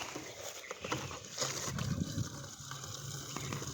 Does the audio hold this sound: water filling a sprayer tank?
yes